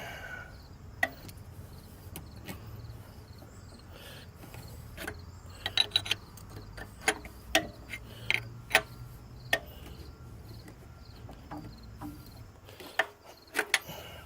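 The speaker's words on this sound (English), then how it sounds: "24mm wrench." A 24mm wrench turns an engine cam through sparse metallic clicks and sharp clanks scattered over a low mechanical rumble, close by and without talk.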